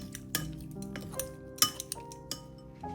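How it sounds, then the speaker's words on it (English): Shrimp seasoned with salt, white pepper and cooking wine are stirred in a bowl, with a utensil giving several sharp clinks and scrapes against the dish in an uneven rhythm, close and fairly quiet, with no talk. "Mix everything well so the shrimp can absorb all the flavors."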